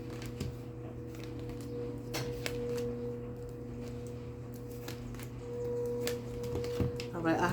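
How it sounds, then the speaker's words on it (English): Tarot cards are shuffled by hand in soft, intermittent riffles and slides against a steady low hum, close and quiet, with a burst of card handling at the end. "Give you some good shuffles in once again."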